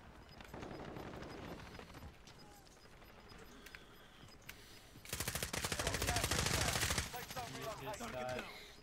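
Rapid bursts of automatic gunfire erupt during a video game shootout, dense and loud in the second half, with excited voices talking over the shooting earlier on.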